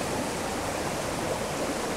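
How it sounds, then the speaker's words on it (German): A brook flowing steadily beside a resting spot on a hike, a loud, close, unbroken rush of water filling the whole clip with no voices. "habe mir hier gerade ein schönes Plätzchen an einem Bach gesucht"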